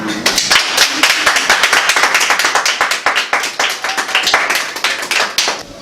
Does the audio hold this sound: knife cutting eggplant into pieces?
no